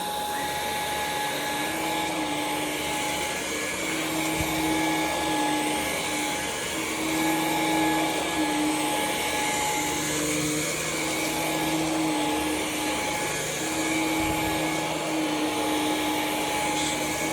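Ryobi HP brushless stick vacuum running steadily on high with the beater bar removed, a continuous motor whine carrying a sharp high-pitched squeal, close and loud with no talking.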